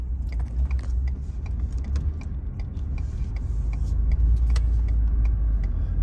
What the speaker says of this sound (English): here's our local traffic on a Saturday morning